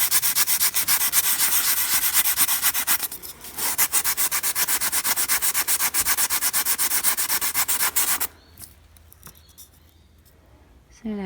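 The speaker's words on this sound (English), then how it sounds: "now I'm going to be taking some 240 grit sandpaper and smoothing them out" Wooden pieces are rubbed with 240 grit sandpaper in fast, rhythmic back-and-forth strokes, loud and close, with one short pause partway through. The scraping then stops and quieter handling noises follow.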